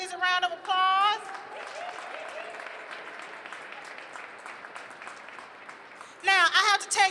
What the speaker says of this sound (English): Let's give those ladies a round of applause.